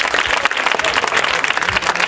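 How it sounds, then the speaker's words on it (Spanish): Dense, steady applause from an audience at a televised local program, loud and continuous throughout with no talk over it. "la verdad un fuerte aplauso"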